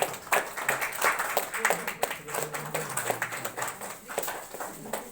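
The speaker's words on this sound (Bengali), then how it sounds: "আমরা সবাই করতালি দিই একসাথে" An audience at a poetry festival in Bhabanipur applauds together for a poetry book cover unveiling, a dense patter of hand claps with voices mixed in.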